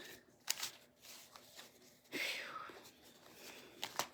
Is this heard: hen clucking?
no